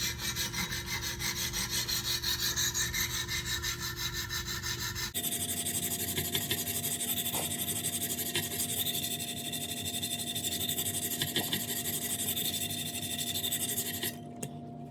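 An Emerson Super Commander knife blade rubs back and forth on a 200 grit sharpening stone in a steady, continuous gritty scraping, with a brief shift in tone partway through and a tap near the end.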